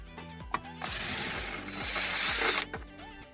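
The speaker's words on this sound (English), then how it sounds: "we're going to take those two screws out" Screws being driven out of a Buick Enclave rear side marker lamp with a power tool, two bursts of whirring buzz about a second and a half each, close and fairly loud, with clicks before and after and no talking.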